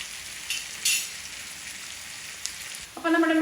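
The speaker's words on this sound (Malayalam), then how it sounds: "അപ്പോൾ നമ്മുടെ മീൻ ഏകദേശമൊക്കെ മുരിഞ്ഞ് വന്നിട്ടുണ്ട്." Fish coated in onion masala fries in oil with a soft continuous sizzle, a few faint clinks and a brief louder spatter at the end, heard close with no talk.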